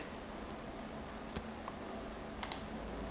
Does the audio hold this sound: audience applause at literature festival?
no